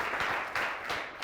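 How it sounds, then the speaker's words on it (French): Brief, soft applause from an audience at a French-language television show, a few scattered claps blurring into a low wash that fades quickly. "Merci de faire des applaudissements pour ce monsieur"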